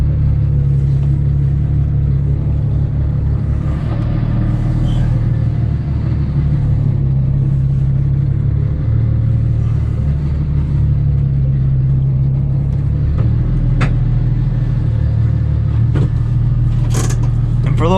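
A gutted, caged 750hp BMW 135i with a manual clutch drones steadily from inside the cabin, its engine a loud constant low rumble with a few brief sharp clicks and rattles toward the end.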